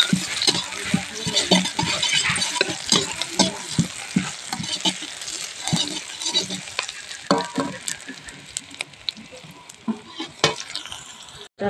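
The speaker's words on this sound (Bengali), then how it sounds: "এখন পেঁয়াজ কুচি দিয়ে দেবো। নেড়ে চেড়ে ভেজে নেব।" Chopped onions fry in a pan with cumin seeds, crackling loudly and close while a spoon scrapes and clinks in a busy, irregular stirring rhythm, with the sizzle easing slightly toward the end and no talking.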